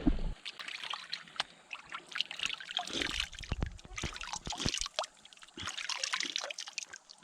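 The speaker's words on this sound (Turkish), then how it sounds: "derenin akması da büyüyor arkadaşlar" A spring-fed creek flows and trickles close by, a busy stream of irregular splashes, drips and gurgles that stays moderately quiet throughout.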